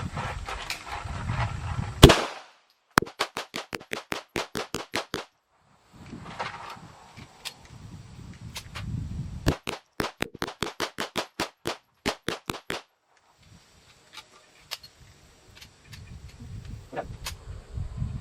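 Tisas BR9 shotgun fired repeatedly during a 1000-round endurance test at an outdoor range, sharp loud reports in two fast strings of rapid, evenly spaced shots separated by pauses, with ambient noise between bursts.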